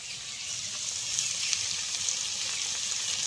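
Vegetables frying in a pan after salt and turmeric go in, a steady close hiss and sizzle holding level throughout with no voices.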